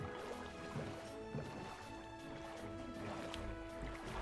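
Boat paddles splashing through water in Minecraft, soft repeated paddling strokes at a steady rhythm, quiet and fairly close, with faint background tones.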